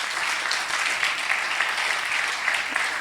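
A stand-up comedy audience applauds, giving a steady, full wash of clapping from many hands that holds evenly throughout.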